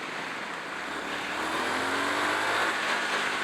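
A 2018 Triumph Street Scrambler motorcycle accelerates hard, its engine note rising steadily and growing louder over a few seconds, with strong wind rush around it and no talking.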